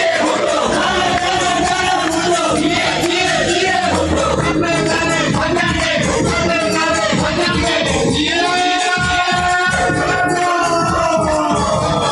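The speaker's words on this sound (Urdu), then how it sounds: "کھڑے ہو کر اپنے محبوب قائد کا استقبال کیجیے بھرپور تالیوں میں جناب بلاول بھٹو زرداری" Rally crowd greeting Bilawal Bhutto Zardari's arrival at a PPP jalsa in Lodhran, a loud, dense roar of cheering, yelling and whoops sustained throughout, with shouted voices rising over the continuous crowd noise.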